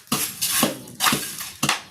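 Dishes and bowls clink and clatter in a few sharp bursts while cups and plates are washed during preparations for a housewarming, close and fairly loud.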